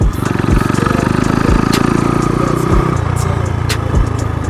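An Icebear Champion CT70-clone minibike fitted with a Piranha 140 engine, ridden on hot pavement, buzzing loud and close with a steady mid-pitched drone and small revving swells throughout.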